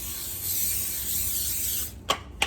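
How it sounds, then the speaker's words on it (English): A steady hiss of cooking spray coating a baking dish runs for about two seconds, followed by two short, separate bursts of spraying, close by. "I'm just gonna take some cooking spray and coat the bottom and the sides."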